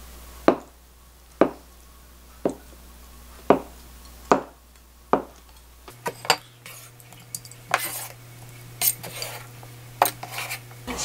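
A knife cuts tofu into 1 to 1.5 cm cubes for mapo tofu: six evenly spaced, crisp taps of the blade on a cutting board, followed by a quicker, irregular run of clinks and knocks against a low steady hum.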